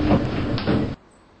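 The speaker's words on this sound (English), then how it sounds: "Door's closing." A Roblox elevator door at a hotel with Apex music elevators slides shut in the video game, a loud sustained whooshing slide with a bump midway that cuts off abruptly, leaving near silence.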